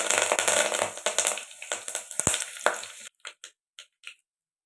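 Curry leaves with cumin and fenugreek hitting hot oil for a village-style eggplant kadayal, loud crackling sizzle and spitting bursts that fade into a few sparse pops before silence.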